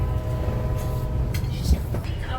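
Steady rumble and rattle of a passenger train rolling through Alaska, a continuous low drone heard from on board with faint clatter of the cars.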